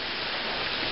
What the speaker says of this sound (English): Because it's hailing.